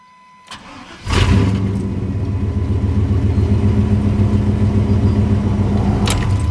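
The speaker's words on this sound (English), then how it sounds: "Truck starts up just fine now." The engine of a 1998 truck cranks and catches, then settles into a loud, steady rumbling idle close by, with no talking.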